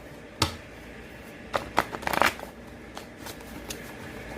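Tarot cards being shuffled by hand give a run of soft riffling flutters and quick papery slaps, close and fairly quiet, with no talking over them.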